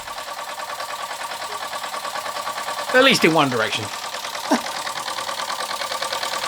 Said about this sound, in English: the Bing 13212 running on its own steam